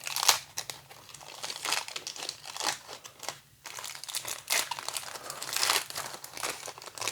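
Foil wrappers of 1989 Pro Set football card packs crinkle and tear open in close, bursty rustling, with several quick rips and crumpling sounds and brief pauses between them.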